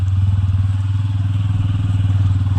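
A motorcycle engine idles or runs steadily close by, a loud low throbbing pulse with even rhythm throughout.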